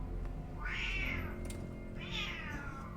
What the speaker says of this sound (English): the cats are being catty